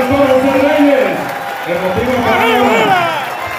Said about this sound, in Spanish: Fuerte el aplauso para el doctor José Reyes.